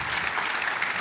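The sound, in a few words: audience applause at a conference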